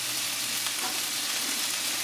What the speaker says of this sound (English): You hear that sizzle? That's telling me the frying pan is nice and hot.